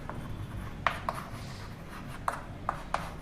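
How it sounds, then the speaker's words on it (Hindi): A pen writing on paper while working a maths problem: several quick scratchy strokes in short bursts over a low background hum, close and fairly quiet, with no speech. "तो पहले लिख लेते हैं"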